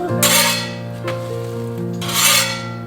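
Food sizzling and frying in a pan at home while being flipped, with two bursts of scraping and hissing over a steady background tone with music, fairly loud and close.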